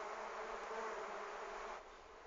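Uruçu stingless bees (Melipona scutellaris) buzz at a wooden hive box while being fed, a close, dense, continuous hum that eases slightly near the end.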